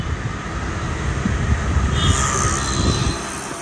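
A metro train rides along its rails with a steady close rumble and faint wheel squeal, with no voices.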